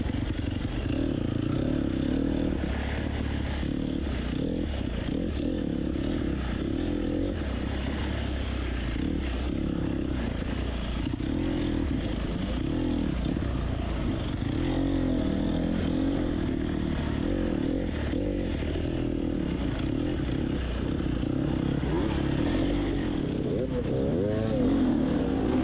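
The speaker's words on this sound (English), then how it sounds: "A lot of these bikes are pretty doggone loud." Dirt bikes race through a harescramble course, engines droning and revving continuously close by with clattering through the rough ground, while a rider's voice is heard over them.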